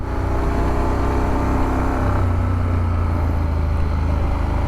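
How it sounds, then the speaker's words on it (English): A Honda Forza 750 scooter's engine pulls away under acceleration, a loud, steady droning hum with a pitch shift midway, heard close up from the rider's position without speech. "Pulling out with that engine, plenty of torque."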